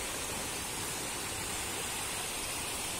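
A small mountain stream runs down through a forest toward a river, giving a steady, even broadband rush of water with no talking.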